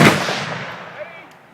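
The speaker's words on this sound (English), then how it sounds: "now the Federals are firing by company." Federal company firing a rifle volley at a Civil War reenactment at Greenfield Village: one sharp, loud crack that rolls into a long echoing tail, fading over about a second and a half.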